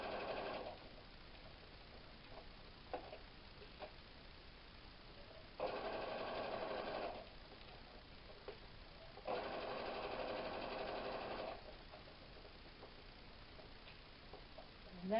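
A sewing machine stitches back and forth along fabric edges. It runs in two short, faint bursts with quiet pauses around them.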